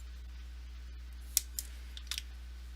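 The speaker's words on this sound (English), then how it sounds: "So I'm actually going to snip away some of this." Small, crisp snips of clippers trimming excess material from a miniature base, two or three quiet close cuts in an otherwise silent room.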